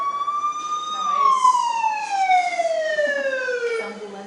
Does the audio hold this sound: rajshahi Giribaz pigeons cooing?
no